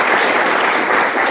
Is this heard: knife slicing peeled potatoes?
no